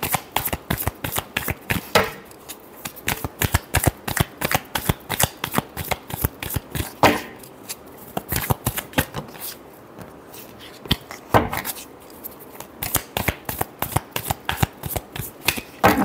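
Tarot cards being shuffled by hand, a rapid, continuous run of crisp riffling flicks and slaps close up, with brief pauses between bursts and no talking.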